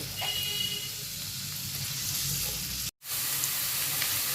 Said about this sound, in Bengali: আমি এখানে 3টি পেঁয়াজ কুচি দিয়ে এটাকে একেবারে হালকা করে জাস্ট ভেজে নেব।